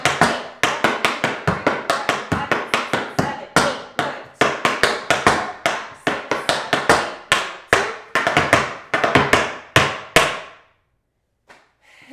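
Rapid, crisp tap-shoe strikes on a hard floor in a steady syncopated time step rhythm to Encanto's Surface Pressure choreography, loud and close, ending with a brief pause and a final tap.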